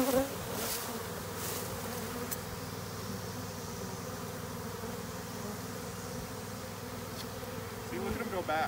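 A steady, dense buzzing of a honey bee swarm around a tree fills the air, continuous and fairly close, with small swells in loudness.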